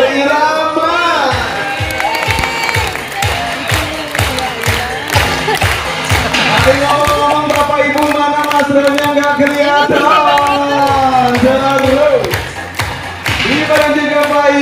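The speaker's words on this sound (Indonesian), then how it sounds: "Kembali tepuk tangannya berirama" Crowd of visitors at a Taman Safari Indonesia animal show claps in steady rhythmic unison, loud and close, with a presenter talking over a sustained musical backing throughout.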